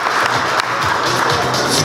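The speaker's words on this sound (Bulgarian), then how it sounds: "Дами и господа, моля вашите аплодисменти." Dense, steady applause fills a hall at the 2015 Hyundai Racing Trophy awards ceremony, loud and continuous with no pauses throughout.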